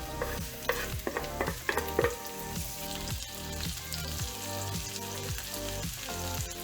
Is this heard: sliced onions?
yes